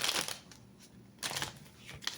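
Tarot cards being shuffled at a desk in a zodiac reading, soft papery riffles and slides in a few brief bursts, close and fairly quiet with no talking.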